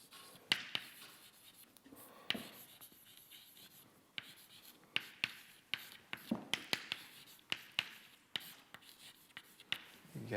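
Chalk or marker strokes scrawl an equation across a board during a physics lecture on tissue mechanics, with quick irregular taps and scratches in bursts and short pauses, fairly close and with no speech.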